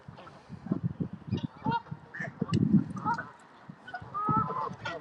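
Waterfowl in a Stoke-on-Trent park squabble noisily, ducks and geese honking and quacking in rapid, overlapping bursts close by, loud and agitated throughout.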